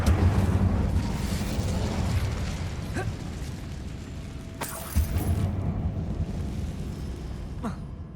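An Incendio fire spell from Hogwarts Legacy erupts in a dense, roaring burst, with sharp pops and cracks flaring through a continuous low rumble, loud and close, alone with no talk.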